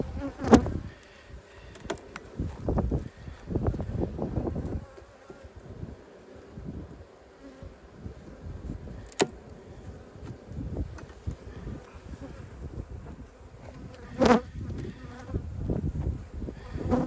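Honeybees buzz close around an open hive during an inspection, a dense insect drone swelling and fading as bees pass near, mixed with soft rustling and handling noises.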